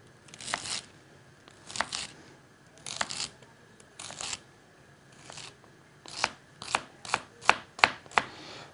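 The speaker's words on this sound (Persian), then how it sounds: "اینا را خوب میده میده آماده میسازیم" Knife chopping vegetables on a cutting board while preparing soup, a series of crisp close knocks, spaced slowly at first and then quickening into a faster regular run of sharp cuts.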